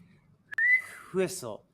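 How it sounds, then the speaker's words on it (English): A short, sliding whistled note, then a brief vocal sound with a breathy whistle attempt, close and fairly loud. "I can't whistle though. Whistle."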